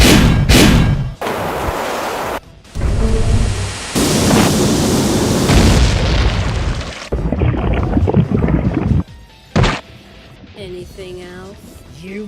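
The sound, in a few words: explosions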